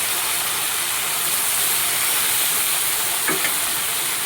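Okra frying in a pan with salt and turmeric for a home lunch gives a steady, even sizzle and hiss throughout, close and moderately loud, with one faint tap of stirring near the end and no talking.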